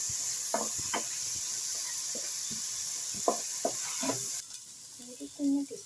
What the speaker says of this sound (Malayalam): നന്നായിട്ട് വഴറ്റുക തക്കാളിയൊക്കെ ഒന്ന് ഉടയണം